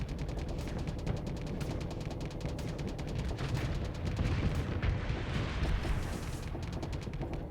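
Torpedoes launching from a spaceship in the Starsector video game, a dense continuous barrage of rapid booming pulses and rumble that swells slightly toward the end.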